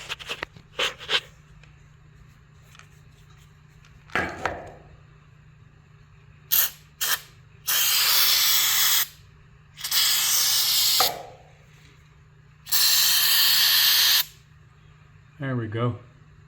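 White lithium grease from an aerosol can is sprayed onto a garage door in three strong hissing bursts of one to two seconds each, with short clicks and handling noises between them and talk nearby.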